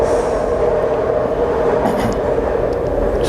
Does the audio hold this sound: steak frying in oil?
no